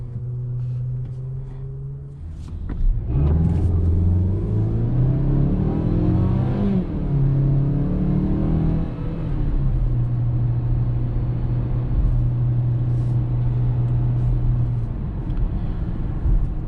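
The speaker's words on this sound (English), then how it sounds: "I'm gonna go ahead and put it in sport mode and see if I could brake boost it." A 2021 Mazda CX-5 all-wheel-drive SUV in sport mode is brake-boosted, then launched hard: a steady idle hum, then the engine revs climb and shift through gears before settling into a sustained, loud cabin drone.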